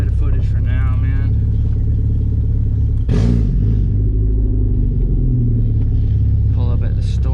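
A Porsche 944 with a straight-pipe exhaust and quick shift kit sits at a loud, close, deep idle rumble, with a sharp rev burst midway before it settles back to its throaty drone.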